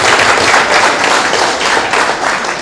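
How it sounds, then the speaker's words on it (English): A crowd at a gallery panel discussion applauds an exhibiting artist named Jan, giving a short burst of loud, close clapping that holds fairly even throughout, with no voices over it. "If we could give Jan a round of applause for her contribution."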